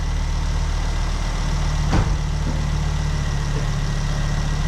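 A car engine idles steadily with a low, even rumble, close by and loud, with a single brief knock or click partway through and no talk.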